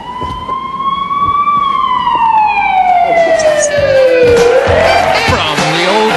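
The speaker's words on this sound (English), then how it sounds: "what's that? Sirens." A loud siren wails, its tone sliding slowly downward and then sweeping back up, with traffic noise underneath.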